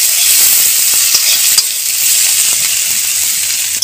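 Chopped green chili, onion, garlic and carrot sizzling loudly in a pan for fried rice, with a constant bright hiss and a few light utensil taps while being stirred.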